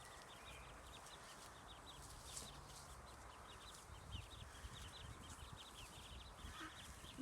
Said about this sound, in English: You hear the duckies?